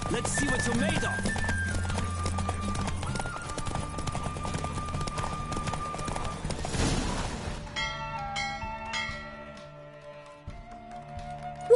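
A racing horse in The Witcher 3 on PS4 gallops with rapid hoofbeats for several seconds, then a burst of noise cuts it off and calmer music with faint ambience takes over.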